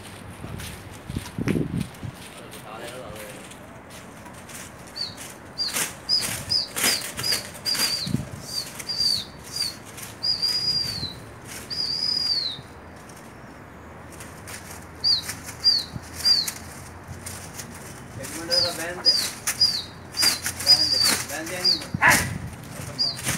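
Pigeons flap their wings in repeated bursts on a rooftop in Jeddah, mixed with short chirps and occasional soft voices and shuffling nearby.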